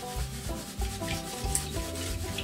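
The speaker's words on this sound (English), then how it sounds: "So you want to stratify it really good and do it vigorously." Wet gravel swirled vigorously in a gold pan, a continuous gritty rubbing and sloshing with rhythmic surges about every half second as the material is shaken to settle, close and fairly loud with no talking.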